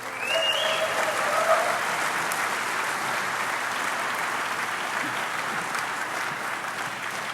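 A conference crowd at DEF CON 21 applauds continuously for about seven seconds, a loud, dense wash of clapping with a few faint whistles early on and no speech.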